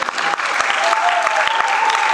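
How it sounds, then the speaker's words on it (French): A crowd of guests applauding at an official wedding ceremony in the Palais des Congrès in Brazzaville, loud, dense and sustained clapping close by. "Applaudissons."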